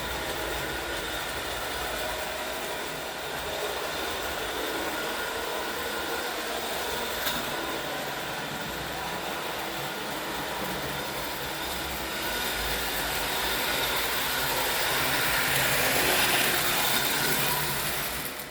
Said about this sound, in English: So that's the mine train.